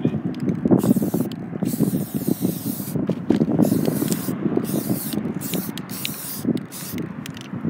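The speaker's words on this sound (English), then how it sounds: "Cool thing about spray paint though is like, fuck it, just spray paint over it." A spray paint can hissing out paint in a continuous broadband rush, with short pauses between bursts and faint handling noises underneath, close and fairly loud.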